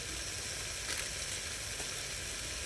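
Coriander powder and chili powder sizzle in a hot pan with a steady, even hiss and a faint stirring scrape, and no one talks.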